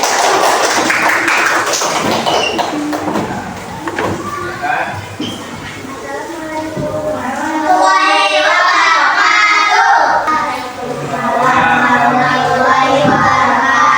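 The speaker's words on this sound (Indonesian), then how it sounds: "Boleh diberi tepuk tangan dulu untuk sekali." A class of fourth-grade children clapping together in a classroom, a burst of scattered claps and thumps mixed with chatter and shouting, followed by a voice beginning to speak over the lingering noise.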